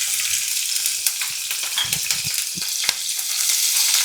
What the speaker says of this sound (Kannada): ಎಣ್ಣೆ ಕಾದ್ಮೇಲೆ ಸ್ವಲ್ಪ ಶುಂಠಿ, ಸ್ವಲ್ಪ ಬೆಳ್ಳುಳ್ಳಿ ಮತ್ತು 1 ಹಸಿಮೆಣಸಿನ್ಕಾಯಿನ ಈ ಥರ ಸಣ್ಣಕ್ಕೆ ಕಟ್ ಮಾಡಿಕೊಂಡು ಹಾಕ್ಕೋಬೇಕು.